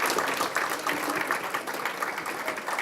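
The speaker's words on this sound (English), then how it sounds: "Can we have a quick round of applause for Linos," Audience at a Carmarthen schools gathering gives a quick round of applause, a dense steady patter of many hands clapping, moderately loud and continuous through the short burst.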